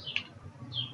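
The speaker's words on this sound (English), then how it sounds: "That bird outside is very annoying" Bird chirps heard outdoors from inside a room, two short high calls about a second apart, moderately loud over a low steady hum, with no talking.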